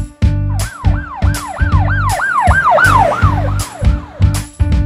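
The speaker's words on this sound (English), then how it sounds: "A is for ambulance." An ambulance siren wails in a steady, repeating rise-and-fall over a loud, rhythmic music beat, the siren sweeping up and down about a dozen times and sitting clearly above the thumping backing track.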